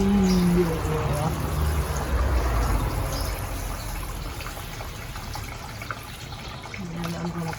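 Leftover water poured by hand onto a potted blue spruce in a container, a steady close splashing and trickling that runs the whole time, with brief talking near the start and end.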